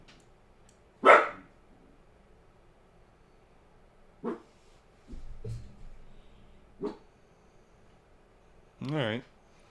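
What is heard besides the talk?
dog barking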